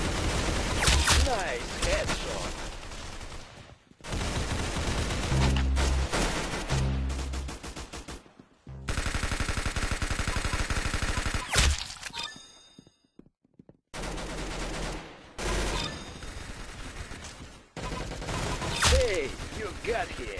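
Video game gunfire in repeated bursts of rapid shots separated by short gaps, mixed with metallic dings and clanks, with a voice talking at times.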